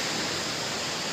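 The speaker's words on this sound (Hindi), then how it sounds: "यहाँ दो झरने, एक उधर से और एक इधर से, वाह क्या खूबसूरत है।" Steady broadband rush of twin waterfalls in Pauri Garhwal, Uttarakhand, loud and continuous with no pauses.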